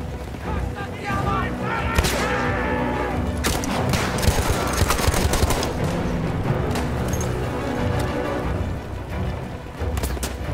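Dense, rapid gunfire in the video game Battlefield 1, with repeated bursts and booming shots filling the whole stretch, loud and close, with chaotic action throughout.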